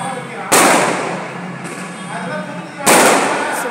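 Firecrackers bursting at a temple festival, two sharp loud explosive bursts each followed by a long crackling, sizzling tail that slowly fades.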